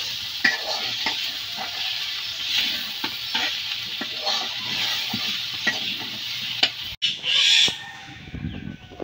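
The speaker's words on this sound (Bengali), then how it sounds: "পাট শাক দিয়ে ভাজা ভাজা করুন।" Jute leaves frying with onion and chilli in a pan, a steady oily sizzle broken by repeated scraping stirs of a spatula, close and fairly loud, without talk.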